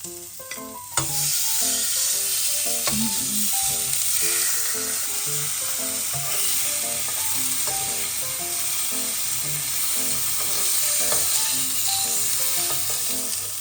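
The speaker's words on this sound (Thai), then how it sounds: "แล้วเดี๋ยวก็ย่างเนื้อ" Meat sizzles steadily on a hot Thai mookata grill, a constant close crackle with faint music playing in the background.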